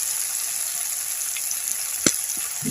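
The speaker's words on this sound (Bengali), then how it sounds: "এবার দিয়ে দেবো টমেটো কুচি" Chopped tomato sizzles in frying ginger-garlic masala in a pan, a steady close crackling fry with a few sharp clinks and stirring knocks near the end.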